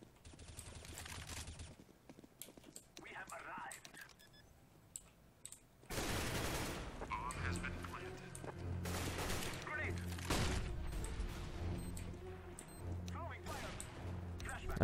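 Dragon Lore sniper rifle shots in CS:GO ranked play, sharp bursts of gunfire and clattering game effects over the second half, with a player talking throughout and keyboard clicking underneath.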